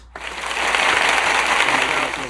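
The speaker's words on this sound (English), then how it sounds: "Everybody give this man a round of applause." A burst of applause from a crowd, steady clapping that swells quickly and holds for a couple of seconds.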